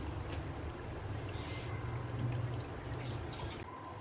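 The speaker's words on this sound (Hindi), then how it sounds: "ये मैंने पानी नाप के रखा है, ये सारा पानी इसमें डाल दूँगी।" Measured water pours steadily into a cooking pot of fish broth for a few seconds, a continuous close splashing and trickling with no talking.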